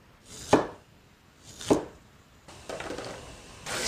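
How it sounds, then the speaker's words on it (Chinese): A knife chops cleaned winter bamboo shoots into small pieces on a cutting board, with two sharp, distinct chops about a second apart, then softer scraping and another cut starting at the end. "处理干净的冬笋来切一下，切成小块小块的"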